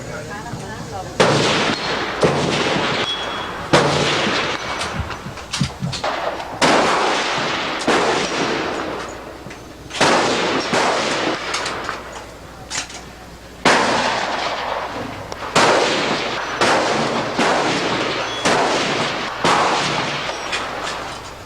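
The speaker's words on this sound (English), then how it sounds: "This is the gun I use for fast draw." Gunshots at a shooting match exhibition: about nine loud, sharp reports fired at a steady pace of roughly one every two to three seconds, each followed by a decaying outdoor echo.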